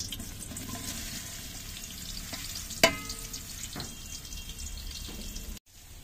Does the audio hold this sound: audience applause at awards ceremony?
no